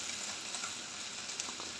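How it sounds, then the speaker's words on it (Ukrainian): Steady crackling sizzle of marinated chicken wings frying in a pan, a constant hissing bed of oil spatter heard up close with no talking. "Цей раз замаринувала крильця і смажу."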